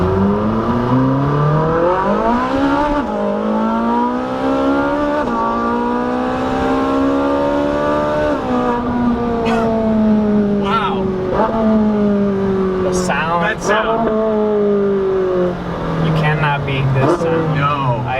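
A supercar engine idles and revs while warming up, loud and close, with rising and falling engine tones and sharp throttle blips toward the end; people talk over it.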